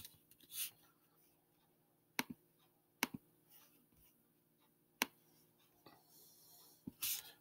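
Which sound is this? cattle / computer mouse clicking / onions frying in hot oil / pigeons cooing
computer mouse clicking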